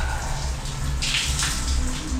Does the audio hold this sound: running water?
yes